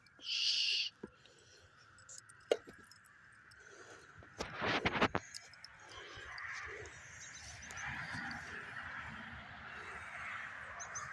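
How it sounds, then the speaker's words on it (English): A chicken hawk gives one short, high-pitched call right at the start, followed by scattered clicks and thumps over a low outdoor background that grows slightly busier later on. "That's that same chicken hawk."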